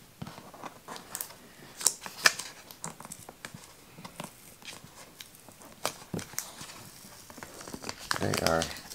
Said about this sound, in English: we're gonna peel these things off here